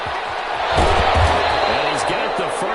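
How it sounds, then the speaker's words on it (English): A football stadium crowd roars and cheers steadily ahead of a big third-down play, a dense sustained wash of noise with a commentator's voice running over it. "the crowd getting into it as we come up on a big 3rd down"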